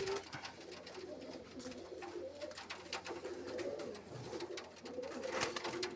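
Pigeons coo softly and continuously at a home loft, several birds overlapping in low, throaty murmurs against faint background noise.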